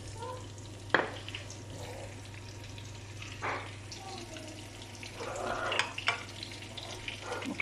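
Breaded fish and Vichy carrots sizzling in a hot pan, a faint, steady crackle with occasional sharper pops and clatters.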